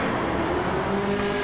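A Ferrari FXX K engine during a Gran Turismo 7 replay, a brief, steady, fairly faint drone of the racing engine with no talk over it.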